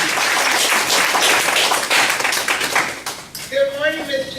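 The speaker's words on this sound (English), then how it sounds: "please join me in a round of applause." An audience claps at the close of a question session at a minority health and aging center event, a sustained round of applause that tapers off as a voice begins speaking.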